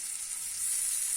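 Chicken pieces fry in a pan with a steady, bright, hissing sizzle that swells slightly partway through, close and fairly soft.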